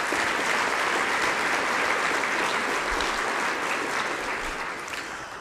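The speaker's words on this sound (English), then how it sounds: "So please give him a round of applause." Keynote audience applauding in a hall, steady dense clapping for several seconds that slowly tapers off toward the end, with no voices over it.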